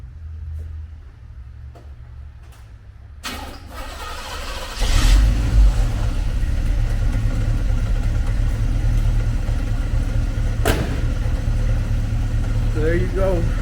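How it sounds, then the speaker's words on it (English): A 1965 Chevy dually shop truck engine cranks and catches after a quiet stretch, then settles into a loud, steady, rough idle close by, with a few clanks over the running motor. "Just want to show you guys that she actually turns on."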